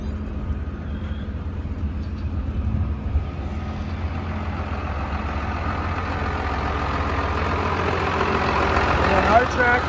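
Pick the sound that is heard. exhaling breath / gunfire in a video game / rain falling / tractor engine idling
tractor engine idling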